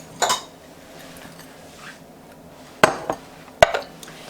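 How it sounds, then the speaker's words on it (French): A bowl being taken out and handled in a home kitchen while baking almond chocolate biscuits, with a few sharp clinks and knocks of crockery, close and fairly loud, separated by quiet pauses. "je vais prendre un autre bol, peser ma margarine"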